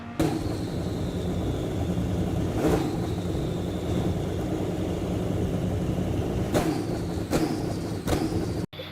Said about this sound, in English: I think that the Porsche does sound the best